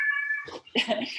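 Two house cats meow loudly and close by indoors, wanting to go out after dark during a home yoga class; a long, steady tonal meow gives way after a short gap to a rougher, more urgent cry with noisy vocal texture.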